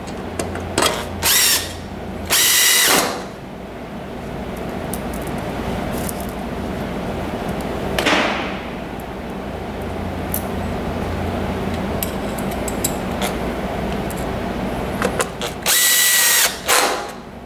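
A power drill drives screws through a plastic frame into a metal frame on a massage mechanism, giving several loud, short whirring bursts with ratcheting clicks between them and quieter handling noise in the pauses.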